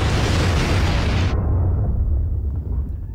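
A sudden roaring whoosh of green fire teleportation in a Harry Potter film, loud and full at first, then cut to a low rumbling tail that fades out.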